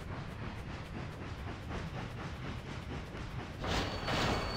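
A model New York steam train runs through water, giving a steady, close wash of splashing and churning with a faint rhythmic clatter, swelling louder toward the end.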